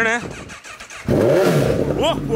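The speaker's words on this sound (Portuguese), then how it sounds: "Vamos dar uma ligadinha aqui, mano. Esquentar o motor" A Honda CB motorcycle engine is started, catching and settling into a loud steady idle partway through, with people talking and exclaiming over it.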